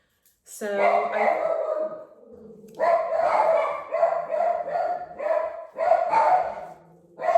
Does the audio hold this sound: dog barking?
yes